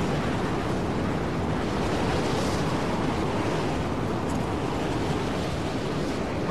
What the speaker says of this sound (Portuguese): Tem uma tempestade de areia, maluco!